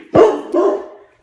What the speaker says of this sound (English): my dog is freaking out. He's a really big dog.